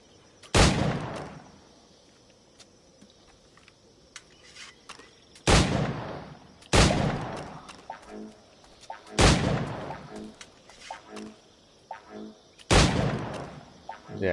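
Five loud, sharp gunshots ring out in Assassin's Creed IV Black Flag, spaced a few seconds apart, each with a booming decay and quiet ambience in between.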